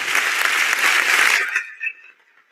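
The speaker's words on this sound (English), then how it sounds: "Please put your hands together for Mr. Obi now." An audience at a youth dialogue event claps together in a bright, busy burst that holds for over a second, then tapers off into a few isolated claps.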